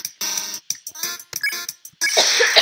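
A burst of harsh, raspy coughs in quick succession, close and fairly loud, ending in a longer breathy hack.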